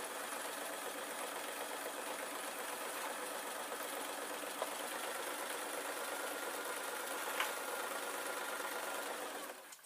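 A sewing machine stitches an orange, lacy Halloween dress, giving a steady, continuous mechanical whir that runs evenly and close-up for nearly ten seconds, then stops abruptly at the end.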